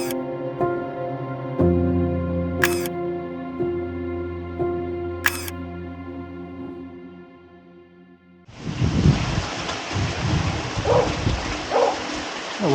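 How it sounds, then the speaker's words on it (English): Rain falls steadily in Pula, a dense hiss beginning abruptly partway through after a stretch of sustained tones, with a few louder drips or splashes standing out. "Can't paint watercolours when it's raining like this."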